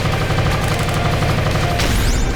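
Rapid, continuous gunfire from shooting enemies in the arcade shooter video game Like Dreamer, played on Expert difficulty, with a dense steady stream of shots and a brighter sweeping effect near the end, loud throughout.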